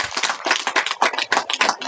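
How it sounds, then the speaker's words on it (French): Audience applauding at a large political rally for a party anniversary gathering, close, dense rhythmic clapping that pulses in waves for a couple of seconds with no talk. "On applaudit."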